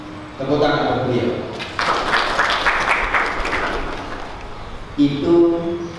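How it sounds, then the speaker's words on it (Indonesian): An audience in a Quran memorization session bursts into applause, a dense burst of clapping swelling for a few seconds and then fading, with voices speaking just before and after. "Tepuk tangan buat beliau."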